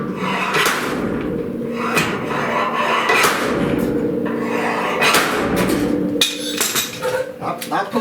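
A dent puller yanks at a badly dented fender on a 1969 Chevrolet C10 truck, making a run of sharp metallic knocks and clanks, close and irregular, with scraping and rattling between the hits.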